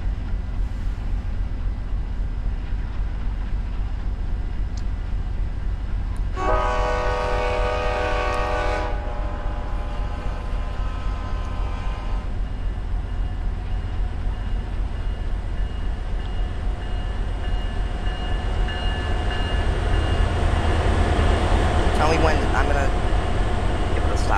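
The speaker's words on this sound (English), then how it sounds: "coach comes in because the train has become very short now" An Atlantic City Express passenger train rolls in very slowly with a steady low rumble of wheels, and a tonal horn blast sounds for a couple of seconds early on, with a brief squeal near the end.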